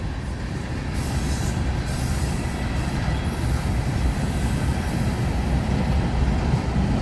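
A long coal train hauled by four locomotives rumbles past up close, a steady loud roar of rolling freight cars with faint wheel squeal and clatter throughout, no talk.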